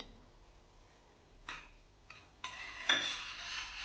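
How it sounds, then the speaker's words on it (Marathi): A spoon stirs milk tea in a pot, giving faint scattered metallic clinks and scrapes. A few light knocks land about a second apart, then the stirring turns into a steadier, slightly louder scraping near the end. "नेहमी चहा हा असा ढवळत राहायचा"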